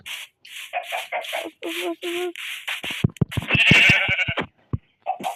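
Repeated short video-game sheep bleats in a quick series, followed by a burst of scuffling and clicking, then one more bleat at the end.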